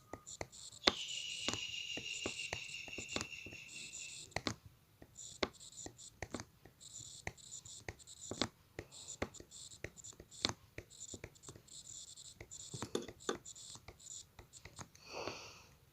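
A pen writes a maths exam solution on paper with soft, scratchy strokes and light taps, quiet and close, in irregular bursts.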